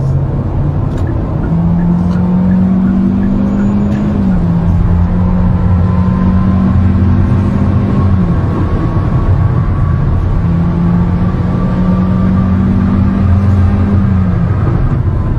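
Hyundai Avante CN7 with a 1.6 gasoline engine, heard from inside the car with its steady loud engine drone climbing and dropping in pitch through gear changes as it revs at high RPM.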